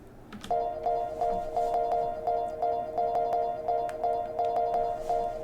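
A bright, chopped synth lead pulses in short repeated stabs at a steady tempo, with faint clicky percussion ticking over a soft background.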